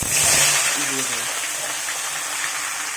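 Eggplant, potato, coriander and green chili hitting hot oil, a loud broad sizzling hiss that swells at first, then settles into a steady rush, with a voice speaking briefly over it.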